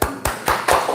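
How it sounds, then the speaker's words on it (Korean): A small church congregation claps in short bursts, four quick rounds of hand claps rising and falling over about a second, close and fairly loud. "박수 한번 칩시다"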